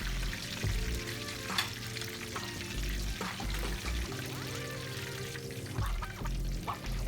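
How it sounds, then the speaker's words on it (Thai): Turmeric-marinated fish frying in hot oil, a steady dense sizzle with oil being spooned over the fish and occasional utensil scrapes and clinks, close and continuous with no talking. "พลิกกลับไปทอดอีกด้านหนึ่งนะคะ แล้วก็เช่นเดิมค่ะ ก็วิทน้ำมันขึ้นใส่ที่ตัวปลานะคะ"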